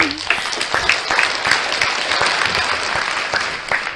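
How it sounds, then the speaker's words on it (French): A crowd applauds at a live show, dense and steady, with some louder individual claps standing out and a voice talking faintly underneath. "Des applaudissements pour mon bébé, s'il vous plaît."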